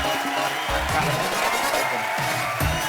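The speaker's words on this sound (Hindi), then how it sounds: "एक बार जोरदार तालियों से स्वागत करिए" Studio audience at a comedy talk show bursts into loud applause and cheering as a family walks onto the stage, with shouts and whoops from the crowd over dense clapping and a few voices talking briefly.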